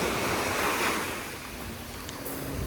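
Sea waves wash onto a gently sloping beach of sand and small pebbles at a resort in Alanya, Turkey, a loud, continuous hissing surf with a soft wind rumble beneath it and no voices.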